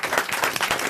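A studio audience breaks into brief, dense applause, with many hands clapping close together in a short burst.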